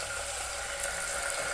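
Tamarind water poured into a pan of sautéed onions, a steady continuous splashing pour that runs unbroken from start to finish with no voices.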